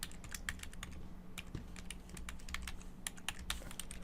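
Someone types on a computer keyboard in quiet, irregular bursts of soft clicking keystrokes, close and faint.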